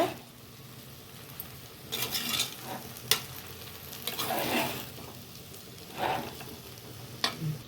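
Citron pickle being stirred in a pan over low heat, giving soft scraping strokes and a light oil sizzle in several separated bursts, fairly quiet with no talking.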